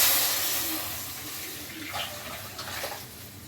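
Dissolved tamarind-style mixture poured into a pot of home-style rasam, a steady liquid splashing and gurgling that starts strong and gradually fades, with soft sloshes near the end.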